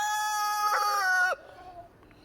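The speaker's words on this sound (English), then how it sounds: "if you hear more than one rooster crowing, they're actually saying, "I'm a rooster too."" Near and loud, a farmyard rooster ends a crow with a long held note that cuts off sharply, leaving a faint lower fowl call and quiet background.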